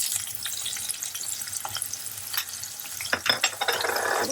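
Curry leaves fry in hot oil with onion and green chilli for a stuffed brinjal masala curry, giving a steady close sizzle with crackling pops and spoon stirring, louder toward the end.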